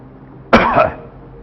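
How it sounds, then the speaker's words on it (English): A single sharp cough, close and loud, breaks a near-silent background and trails off quickly. "All you have to do now is hold these 2 ends and cough."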